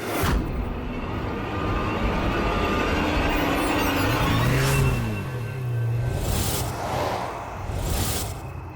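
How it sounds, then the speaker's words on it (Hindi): A car driven along a road in a Hindi TV drama scene: a steady engine and road rumble runs throughout, with a whooshing pass and some rising tonal swells midway, loud and continuous with no talk. "ठीक है, मैं गाड़ी चलाता हूँ"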